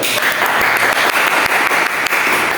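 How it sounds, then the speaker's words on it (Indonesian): A classroom group claps for two students during a micro-teaching history lesson, a dense, brisk burst of applause that is loud and close and runs without pause for a couple of seconds. "Antara Pak Pung dan juga Said, boleh tepuk tangan dulu untuk kita."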